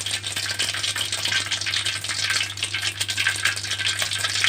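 Mustard seeds and urad dal crackle and spit in hot oil in a pan, a dense fizzing sizzle with quick popping bursts that run on without pause.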